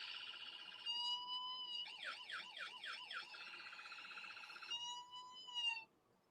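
An electronic siren effect cycles through modes: a steady two-tone blare, then a rapid warbling yelp, then back to the steady tone, loud and continuous before cutting off abruptly.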